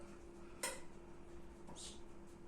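Meatballs scooped out of a pot of homemade garlic meatballs, with one sharp clink of a utensil against the pot followed by a softer scrape and a second light clatter, close by and quiet over a low kitchen hum.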